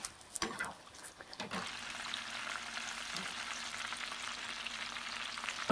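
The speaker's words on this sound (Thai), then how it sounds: "น้ำมันได้ที่แล้วค่ะเดี๋ยวเอาเกี๊ยวลงทอด" Wonton dumplings deep-fry in hot oil with a dense, even bubbling sizzle. A few clattering knocks come early, then the frying settles into a fairly quiet, continuous hiss.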